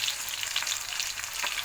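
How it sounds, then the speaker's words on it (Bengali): Chopped onion with light spices frying in a pan for a village-style egg curry, a steady close sizzle with faint crackles and no voices. "পেঁয়াজটা একটু ভাজা হবে।"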